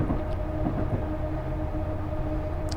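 Two full-size locomotives in Train Simulator haul a heavy train up a 0.8% grade on Sherman Hill, giving a steady, continuous low diesel drone with a faint tonal hum that stays level throughout, with no talk.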